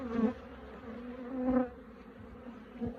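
Honeybees buzz at an apiary hive while frames are sorted, a close, steady droning hum that swells and fades as individual bees pass near, with no voices.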